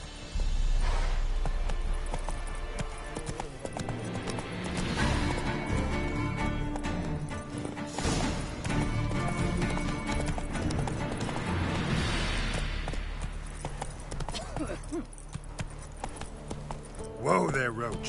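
Hooves of Roach the horse gallop in The Witcher 3, a dense rhythmic pounding beneath loud game music and ambient wind, with a voice calling out over it.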